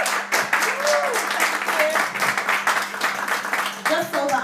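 Audience clapping at a business networking evening after a talk ends, a dense, steady patter of many hands filling the room, with a few voices mixed in underneath.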